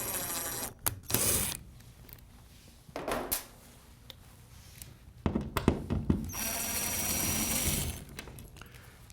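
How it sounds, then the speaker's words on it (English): A power drill drives a screw through the center of a towel rod wall mount in short, separate bursts of whirring, with quiet pauses between them. "I'm going to drive a screw pretty much in the center of that bottom mount so that the hole is marked."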